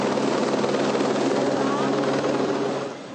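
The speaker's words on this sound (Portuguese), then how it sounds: "Um helicóptero foi usado." A police helicopter flies over a football stadium crowd during unrest, its steady rotor roar loud and close, with the din of the crowd blending underneath.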